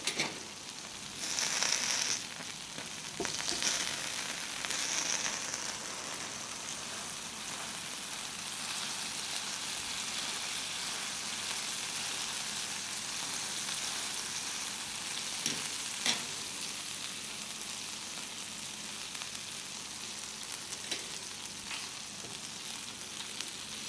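Food sizzles steadily on a Tefal Family Flavour electric grill, a dense even crackle with a few brief louder pops early on and no one speaking.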